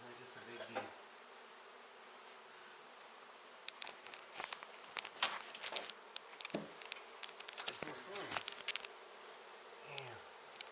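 Honey bees hum steadily from an exposed hive indoors, a faint continuous buzz under scattered close clicks, rustles and handling noises during the removal.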